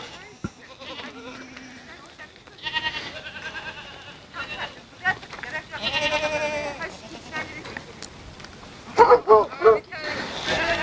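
Large goats bleat repeatedly outdoors while travelling with nomadic herders, their calls rising at intervals from moderate to loud and close, with a cluster of sharp bleats near the end and people talking in between.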